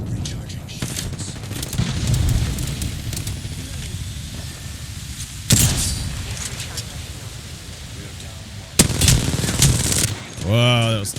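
Bursts of gunfire in the battle-royale shooter Apex Legends, with sharp loud volleys near the middle and again toward the end over constant game noise, while a player talks through much of it.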